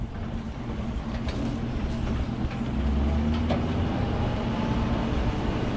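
A Nodwell tracked vehicle idles with its clutch out on a lake bed during a truck rescue. A loud, continuous low rumble carries clanking track rattle and faint metallic squeals, with no voices over it.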